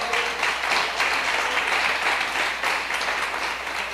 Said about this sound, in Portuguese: Você pode aplaudir ao Senhor com o seu melhor?